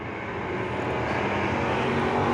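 Factory stock and pure stock race cars roar around the oval at Whynot Motorsports Park, a dense, steady, rising engine drone from several cars together, loud and unbroken.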